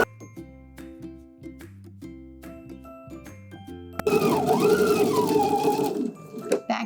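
A sewing machine stitches the button facing on a denim skirt in one fast, steady whirring run, loud and close. Several seconds of soft clicks and taps come before it.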